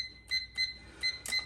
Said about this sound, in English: I'm gonna go ahead and set a timer.